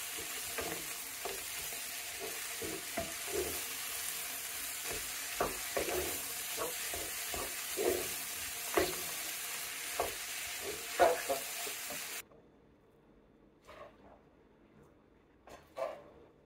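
Two tablespoons of butter melt and sizzle in a frying pan while shrimp fried rice is being made, a steady loud hiss with scraping stirs, then cutting off to near silence with a few faint clinks.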